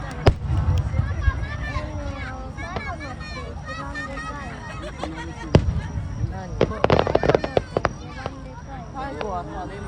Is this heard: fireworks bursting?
yes